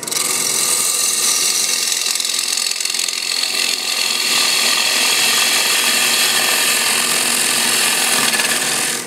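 A bowl gouge cuts wood on a lathe with a loud, continuous, gritty scraping roar, steady for the whole stretch with no pauses.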